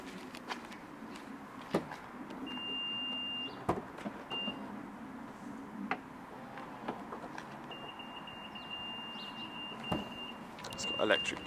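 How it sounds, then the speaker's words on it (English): Electric tailgate on a plug-in hybrid car running, a faint whirring motor hum with intermittent high warning beeps and small clicks and knocks, and a person talking over parts of it. "Electric tailgate."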